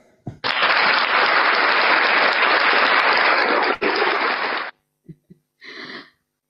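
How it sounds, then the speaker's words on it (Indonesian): An audience bursts into loud, even applause that roars steadily for about four seconds and then cuts off abruptly, followed by a few brief scattered noises and a short breathy sound. "Silakan sahabat-sahabat kalau masih mau tepuk tangan"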